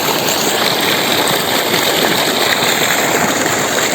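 Water pours continuously from a farm water source at a coconut and banana grove near Coimbatore, making a loud, steady rushing and gurgling flow close by with no talk.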